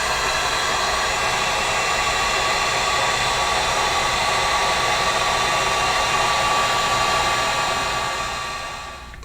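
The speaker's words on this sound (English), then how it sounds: "I'm gonna take the heat gun now and go over it and really let the wax and boiled linseed oil soak in" A heat gun blows steadily and loudly over canvas treated with beeswax and boiled linseed oil, a constant broadband roar that holds for the whole stretch before easing slightly at the end; no one speaks.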